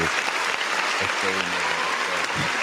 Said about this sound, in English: Round of applause for yourself. Go ahead, you can push the button